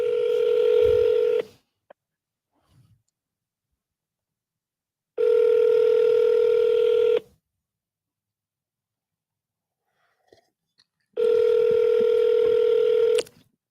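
Telephone tones on an outgoing call: three separate loud steady tone bursts, each about two seconds long, with silent gaps between them and no talk.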